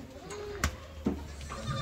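Sojat goats on a farm bleat briefly, a short wavering call followed by a couple of sharp knocks against a steady low background hum.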